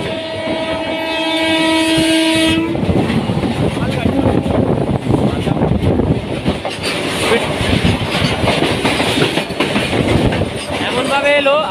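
A Haldia Fast superfast local train pulls into a station on the Howrah to Tamluk line, a loud sustained horn blast giving way to a heavy roar and rattle of carriages passing close by.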